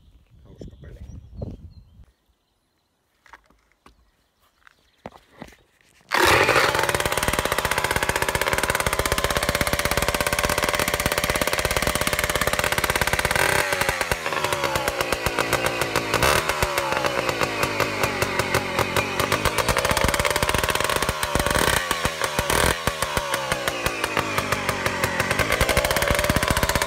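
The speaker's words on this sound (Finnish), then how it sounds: "Nyt on testattu, että moottori lähtee käymään." Tomos 4 hp engine, quiet scraping and handling noises, then it fires up abruptly and keeps running, a loud, close, buzzing two-stroke drone with revs rising and falling.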